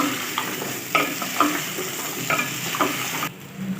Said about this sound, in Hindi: और चम्मच हिलाएंगे अच्छी तरह से ताकि आम हमारे नीचे नहीं लगे